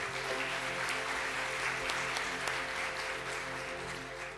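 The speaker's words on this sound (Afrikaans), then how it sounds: "kom ons gee vir hulle lekker hande klap" Church congregation applauding during a Mother's Day service, a steady wash of clapping heard somewhat distantly over a constant low hum.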